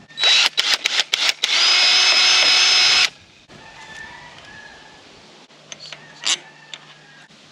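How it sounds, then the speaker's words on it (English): A loud power drill whines continuously for a couple of seconds after short bursts, then fainter whirring and clicks follow. "bring a drill over here and clean these holes out"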